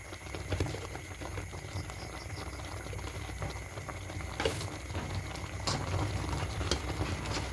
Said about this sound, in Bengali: এরকম ফুটন্ত জলের মধ্যে চালের গুঁড়িটা দিতে হবে